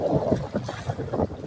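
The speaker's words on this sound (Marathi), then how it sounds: "वारा पण आलाय जोरात." Strong wind buffets a fishing boat out at sea, gusting in uneven bursts with rough microphone rumble, fairly quiet and with no voices.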